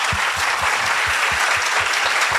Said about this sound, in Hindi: मुझे इतनी जोर से तालियां बजाइए कि स्काई तक आवाज जाए